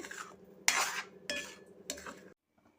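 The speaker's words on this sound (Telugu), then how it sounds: "ఒక్కసారి అన్నీ కలిపేసుకుంటున్నాను ఈ కారాలు ఇవన్నీ మనం వేసిన మసాలాలు ఈ గ్రేవీకి బాగా అంటుకోవాలి" A spoon stirring masala-coated gravy in a pan for a restaurant-style paneer mixed vegetable curry, with three scraping bursts of metal on metal in an uneven rhythm, close and clear with no talk.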